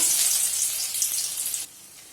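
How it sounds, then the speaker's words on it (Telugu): Finely chopped ginger frying in hot oil, heard as a bright, close sizzle that runs for about a second and a half and then drops away sharply to a faint hiss. "ఇలా అల్లం వేసుకున్న తర్వాత ఒక రెండు నిమిషాల పాటు బాగా ఫ్రై చేసుకుందామండి"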